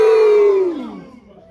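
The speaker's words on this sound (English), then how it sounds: "That's a great crowd." Wrestling crowd at a Lou Jacobs versus Stevie Legend match roars in one loud, sustained cheer with voices that swell and then fade away over a second and a half.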